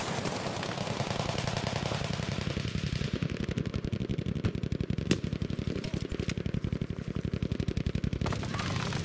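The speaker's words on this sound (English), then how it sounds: "taking out Farfar instantly with the FG-42 with the reflex sight" Rapid, continuous automatic gunfire from an FG-42 with a reflex sight in the video game Battlefield V, a loud dense burst of evenly spaced shots running without pause, with a shoutcaster talking over it.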